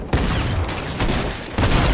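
Rapid gunfire from a Fortnite match rattles in dense, loud, close bursts through nearly two seconds, with a short break before a final volley.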